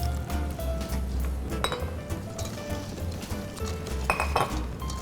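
Metal utensil clinking against a bowl while cupcake batter and water are stirred together, with steady scraping and tapping clinks in a quick irregular rhythm, close and moderately loud, no talking.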